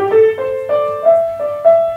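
A handmade grand piano plays a slow, gentle ascending phrase of single notes, each struck clearly and left ringing, close and resonant.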